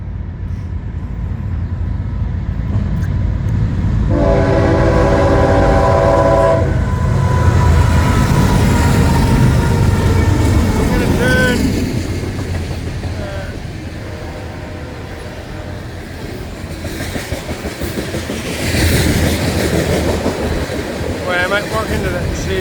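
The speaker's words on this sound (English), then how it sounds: "This train's booking right along." A BNSF coal train rolls past at speed in East Rapids, Montana, with a steady loud rumble and heavy wind buffeting, and a horn sounds midway.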